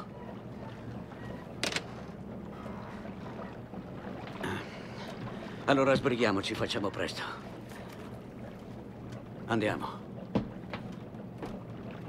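A boat motor rumbles steadily on the water with wind buffeting, while someone speaks briefly over it.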